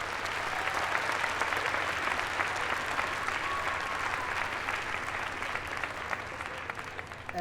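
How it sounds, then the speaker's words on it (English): Sustained audience applause for faculty and staff at a dual enrollment recognition ceremony, dense even clapping from a large crowd continuing steadily throughout at moderate level. "let's give them a round of applause as well"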